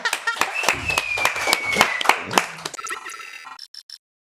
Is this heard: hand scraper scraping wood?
no